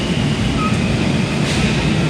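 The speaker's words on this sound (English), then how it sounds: "we are at the Foggy Bottom metro station" Washington Metro train at Foggy Bottom station, a steady loud rumble of rail cars running throughout with no break, close and continuous.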